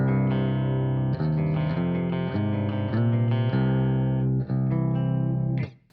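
A clean electric guitar on the bridge pickup, through a Synergy SYN 20-IR, strums ringing, bright, chimey chords in a steady sequence, loud and up close, with no voices.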